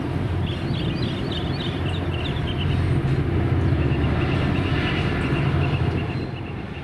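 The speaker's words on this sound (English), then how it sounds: "many a tri-rail commuter train makes an appearance as the day begins" A Tri-Rail commuter train rumbles through the Miami Amtrak station at daybreak, a steady loud low roar that swells midway with a faint whine and squeal above, no voices.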